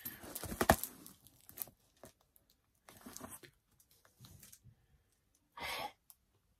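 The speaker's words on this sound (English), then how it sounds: "must have used an entire roll of parcel tape for this" Parcel tape is ripped off a large mail package in several short, sharp tearing bursts with crinkling between them, one strong rip early and another near the end.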